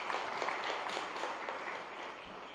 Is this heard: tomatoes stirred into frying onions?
no